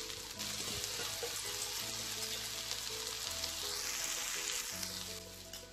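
Leafy greens and onions frying in a pan for Telangana bankoti curry give a loud, steady, close sizzle that hisses on without a break, with no voices over it.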